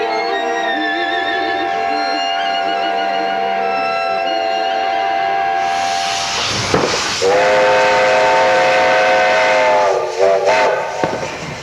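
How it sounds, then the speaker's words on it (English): A steam locomotive's whistle in the Carpathian Mountains of Ukraine sounds a long, loud sustained blast, harmonic and slightly wavering, then shifts to a brighter, harsher tone midway with bursts of hiss, close and dominant. "how about this ushering in of the new year with a minute-long blast of the whistle?"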